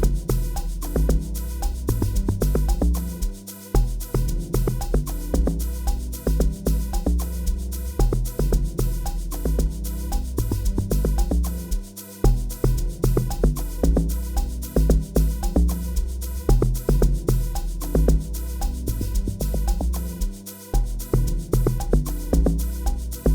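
A music production plays a heavy log drum bass under chords. The track is loud and continuous, with a punchy low-end pattern that repeats steadily.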